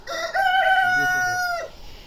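A young chicken close by on a village farm in autumn gives a drawn-out, squawking crow-like call, lasting more than a second and then trailing off.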